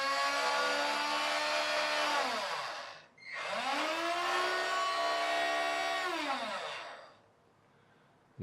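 Electric lift motor of a wire-controlled RC Linde forklift truck whirs in two long runs, pitch rising and falling with a brief dip between them, loud and close with no talking.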